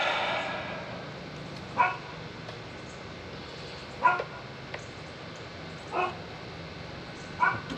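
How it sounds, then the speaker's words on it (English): A dog barks with a few short, fairly faint yips spaced a couple of seconds apart over steady outdoor background noise, on a hot morning while a 1986 Mercury two-stroke outboard fuel pump is being rebuilt. "I think my dog Buddy really wants to go fishing or go inside"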